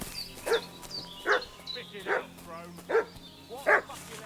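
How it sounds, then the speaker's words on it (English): A dog barks in Kingdom Come: Deliverance 2, letting out five evenly spaced, fairly loud barks over a quiet background hum. "What's that dog making such a fuss about?"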